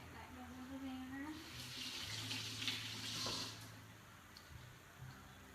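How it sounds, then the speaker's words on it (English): Tap water runs steadily from a faucet as hands are washed at a kitchen sink during meal prep, a soft continuous splashing at close range lasting several seconds. "I like to wash my hands a lot."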